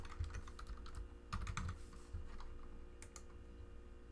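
Quiet, close computer keyboard typing as a name is entered: a few brief bursts of key clicks with pauses between them over a low steady hum.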